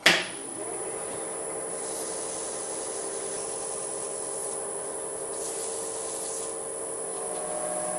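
Steady, close rasping of 600-grit sandpaper rubbing against wood spinning on a lathe while turning a salt shaker, continuous and even throughout, with a brief louder scrape at the start.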